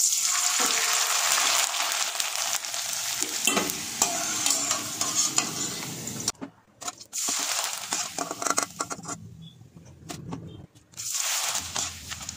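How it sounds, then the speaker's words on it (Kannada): Sabudana sandige frying in hot oil, a loud continuous sizzle with stirring scrapes that breaks off twice into near silence before the bubbling resumes, no talking over it. "ಆಗ ಬಿಸಿ ಎಣ್ಣೆಗೆ ಹಾಕಿ ಕರ್ಕೊಳ್ಬೇಕು"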